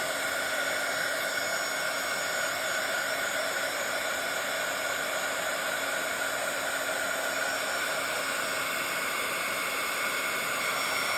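A hair dryer runs steadily to dry a craft napkin glued onto a Bible journal page, giving a constant, close, loud whoosh with a faint motor whine, unbroken for the whole stretch with no talking.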